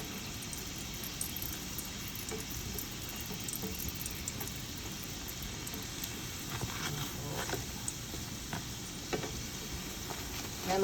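Egg and onion fry in a pan with a steady, close, even sizzle that keeps going without a break. No one speaks over it.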